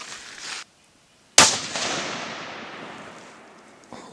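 A single sharp .223 bolt-action rifle shot fires outdoors, a loud crack followed by a long rolling echo that fades over several seconds, with faint wind noise before it.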